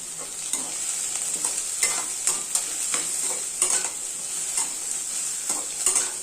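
Ridge gourd and tamarind sautéed in a pan give off a steady sizzle, with repeated close scraping stir strokes throughout and no talking.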